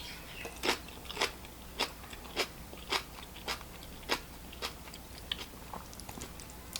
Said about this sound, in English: Give the kimchi a taste.